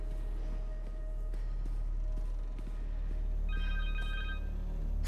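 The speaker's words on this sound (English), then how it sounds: "Connor's cell phone." A cell phone rings in the video game Spider-Man 2, a faint electronic ring tone entering near the end over a quiet low hum of game ambience.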